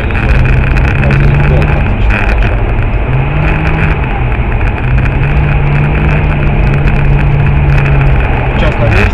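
An Audi 3.0 TDI stage 3 tuned car engine idling, a loud steady diesel rumble with a constant low drone heard close up, while people talk over it.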